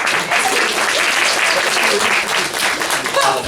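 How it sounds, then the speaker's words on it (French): Applause from a theatre audience at a live children's pirate show, a dense, steady wash of many hands clapping close and loud, with faint voices mixed in. "Applaudissements!"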